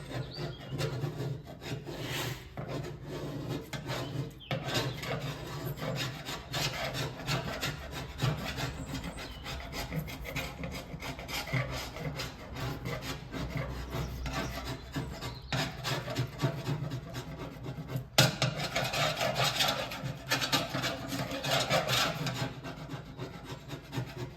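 Paint is scraped and stripped off a part from a Massey Ferguson 1250 tractor, producing a continuous close rasping and scratching with rough, uneven strokes throughout.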